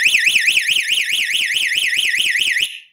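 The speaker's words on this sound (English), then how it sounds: "all we have to do now is trigger an alarm. We're going to do that with a door contact." A Sonoff Bridge alarm system set off by a door contact sensor sounds a loud, warbling electronic siren that rises and falls in rapid regular sweeps for nearly three seconds, then cuts off.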